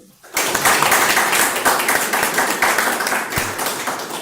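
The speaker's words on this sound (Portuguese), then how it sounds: "Por favor, palmas para Ivana." An audience at a spiritual gathering bursts into applause for Ivana, the many hands building quickly into a thick, even clatter that holds loud and near to the end.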